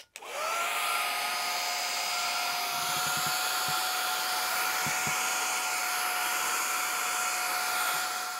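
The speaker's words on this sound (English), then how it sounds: "I am blown away by how well this little mini vac works" An Aorika cordless handheld mini vacuum cleaner runs steadily and close by, a loud even motor whine with a high pitched tone that holds for the whole stretch, with brief faint knocks of debris or contact partway through.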